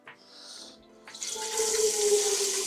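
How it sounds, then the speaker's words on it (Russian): Tap water runs into a cooking pot in a home kitchen as half a pot of water is filled for chicken-broth dumpling soup; a steady close pour that starts after a brief hiss and grows fuller, with no talk. "сейчас налью сюда пол-кастрюли воды."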